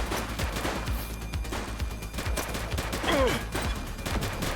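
Gunfire from a police shootout in the video game The Precinct rings out in repeated sharp shots and rapid bursts over a busy, loud background, with brief scattered effects and no clear talking.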